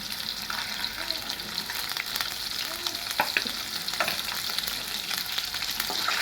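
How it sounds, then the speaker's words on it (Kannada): Eggs fry in oil seasoned with turmeric and chili powder in a kadai for a restaurant-style egg masala, giving a steady, close sizzle with scattered crackles and occasional stirring scrapes. "ಮೊಟ್ಟೆ ಒಂದು ಸ್ವಲ್ಪ ಚೆನ್ನಾಗಿ ಫ್ರೈ ಮಾಡ್ಕೊತಾ ಇದ್ದೀನಿ"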